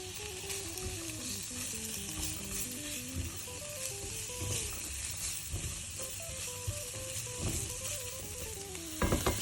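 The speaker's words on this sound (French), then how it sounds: "Je fais revenir les condiments." Condiments sizzling in about two tablespoons of hot olive oil in a frying pan while beef pasty filling is prepared, a steady close frying hiss with occasional stirring, soft background music tones running underneath.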